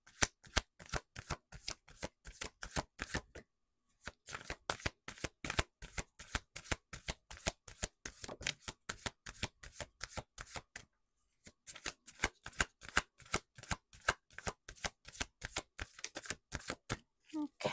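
A deck of cards shuffled by hand in repeated riffle bursts, crisp rapid flutters separated by two brief silences, close and fairly quiet, with no talking over them.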